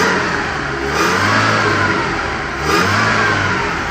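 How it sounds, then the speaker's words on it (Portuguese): A Chevrolet Kadett engine revs hard and accelerates in two surging pulls, loud and close, with a steady mechanical roar throughout. "Olha só a arrancada desse carro, Zé Luiz."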